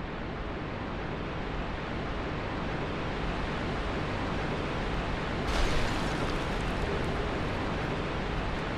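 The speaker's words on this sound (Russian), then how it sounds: "Водопад шумит, конечно, сильно" Loud, steady roaring rush of a waterfall in the Dark Souls Remastered video game, a dense continuous wash of water noise filling the whole clip with a slight surge partway through.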